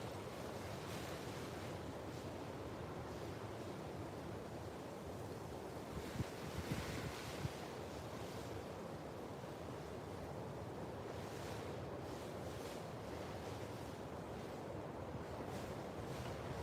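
Steady roar of ocean surf washing onto a beach in the Marshall Islands, constant and enveloping, with wind buffeting the microphone and no voices.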